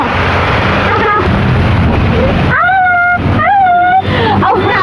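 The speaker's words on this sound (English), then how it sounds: "Raining heavily." Heavy rain on a rainy day in Imphal city pours down as a dense, steady broadband wash, loud and close, with a brief tonal whine cutting through midway.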